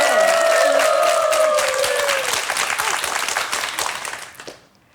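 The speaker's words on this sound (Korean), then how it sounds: "박수로 좀 해주시죠." A studio audience on a Korean TV show applauds, a steady wave of clapping with a voice rising over it, then fading out near the end.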